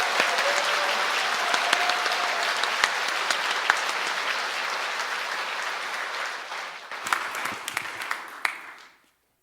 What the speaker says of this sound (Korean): 다시 한번 큰 박수로 주교님을 모시겠습니다.